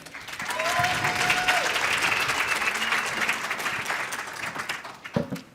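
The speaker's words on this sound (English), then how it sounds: "Another round of applause," Audience applause for panelists at an impact report launch event, a sustained wash of many hands clapping that tapers off near the end, with a brief tonal sound early on.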